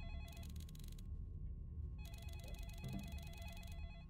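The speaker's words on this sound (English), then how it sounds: "The phone again." A telephone rings in a Roblox horror video game, two long warbling electronic bursts separated by a short pause, faint and steady over a low background hum.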